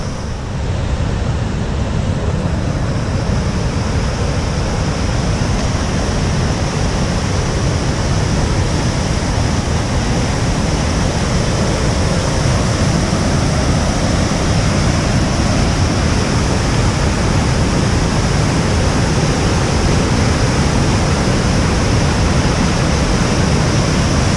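A waterfall on Rae's Lake Loop in Kings Canyon roars in a steady, loud, unbroken rush of falling water that holds at full strength throughout, with nothing else standing out and no voices.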